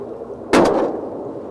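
A single close, loud shotgun blast fired while hunting turrs off Fogo Island with number 4 shot, a sharp crack followed by a short fading rumble over faint outdoor background noise.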